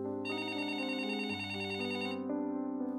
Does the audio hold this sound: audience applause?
no